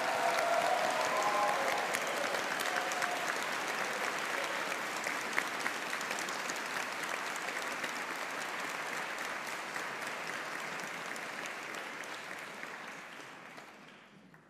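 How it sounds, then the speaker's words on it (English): Sustained applause from a seated graduation audience as graduates of a university humanities and social sciences faculty return to their seats, steady and full for most of the span before thinning and fading out at the end. "one more round of applause for them"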